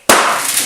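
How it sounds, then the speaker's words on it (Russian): A bead firework toy bursts with one sudden loud pop, followed by a short bright crackling and rattling decay as the beads scatter, close by. "Фейерверк из бусин."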